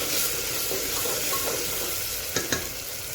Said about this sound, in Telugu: ఆనియన్స్ వేగడానికి ఒక ½ స్పూన్ సాల్ట్ వేసాను.